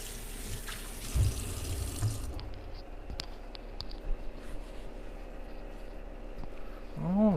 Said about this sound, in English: Let's wash my hands first.